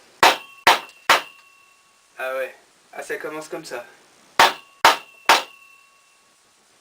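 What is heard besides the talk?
hammer striking a piece of wood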